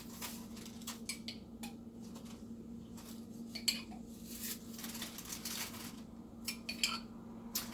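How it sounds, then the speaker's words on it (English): Metal spoon spreading pizza sauce over bread, irregular soft scrapes and light clinks against a dish, close and faint over a steady low background hum. "I'm going to take a spoon and I am going to sauce the bread"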